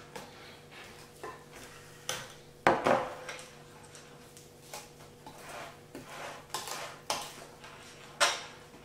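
Cupcake batter with baking powder being mixed in a bowl: intermittent scraping and knocking of a utensil against the bowl in irregular bursts, close and fairly quiet with pauses between strokes.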